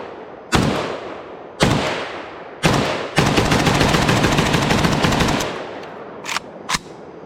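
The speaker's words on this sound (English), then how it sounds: "Last mag with the SAR-1 at dark, no flash hider." A stamped SAR-1 AK rifle with no flash hider fires at dark: three loud single shots, then a long rapid burst lasting about two seconds, followed by two fainter distant reports, all close and booming.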